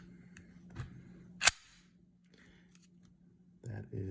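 The slide of a Taurus G2C 9mm pistol is pulled back during reassembly, producing one sharp, close metallic click amid quiet handling noise, followed shortly by a few softer clicks and clatter.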